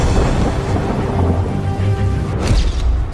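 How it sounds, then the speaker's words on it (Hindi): Downpour in Thane hisses loudly and steadily while deep thunder rumbles low beneath it, swelling slightly toward the end, with no speech. "भारी बारिश से शहर हुआ पानी पानी,"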